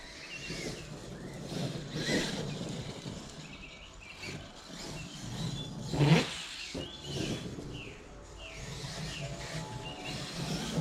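A Kyosho Fo XX VE 2 RC car runs on a road with a 4S 5000mAh battery, its electric motor whining in rising and falling bursts. It sounds moderately close, with a sharper surge midway through and no voices.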